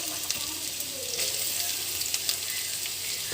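Onions, curry leaves and green chillies fry in a hot pan with a steady, even sizzle and crackle that holds at one level throughout, with no voices over it.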